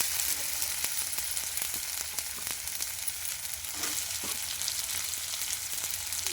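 Tomato added to a pan of frying vegetables such as eggplant and potato for a banana-flower curry: a steady, close hiss of sizzling oil throughout, with faint stirring scrapes and small pops, no talking.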